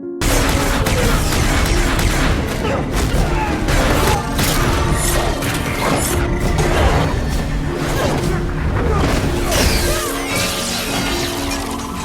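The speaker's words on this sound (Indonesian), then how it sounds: "bersamaan dengan hal tersebut, bom yang dipasang Cora meledak" A loud, chaotic stretch of blasts and crashes with whooshing debris and heavy rumbling, like a movie explosion sequence, sustained throughout.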